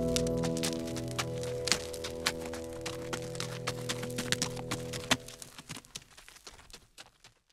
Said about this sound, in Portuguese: não é o seu cavalo vindo aí?